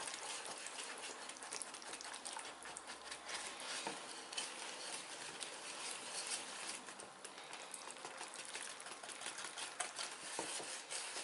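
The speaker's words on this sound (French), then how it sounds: "On va commencer déjà à mélanger donc le sucre et le yaourt." Sugar and yogurt being stirred together for lemon sorbet, a continuous soft scraping and swishing of mixing with no pauses and no voices.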